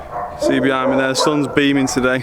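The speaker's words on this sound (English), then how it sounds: "Sorry about the barking." Dogs at nearby kennels bark in quick, loud, harmonic bursts, several barks in a row close by, heard over someone talking outdoors in the sun.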